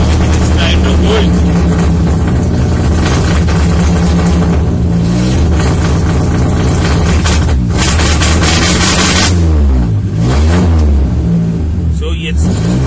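A car engine controlled by a DIY ECU revs repeatedly against a two-step launch rev limiter. The loud, close revving rises and falls with stuttering bursts and never settles.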